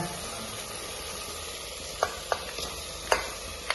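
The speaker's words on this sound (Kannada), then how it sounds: "ಇದಕ್ಕೆ ನಾ ಚಿಕನ್ ಹಾಕೋತೀನಿ ಇವಾಗ" Chicken pieces going into hot oil for a North Karnataka-style chicken sambar, with a steady broad sizzle and a few sharp clinks of a spoon stirring against the pot, no talking.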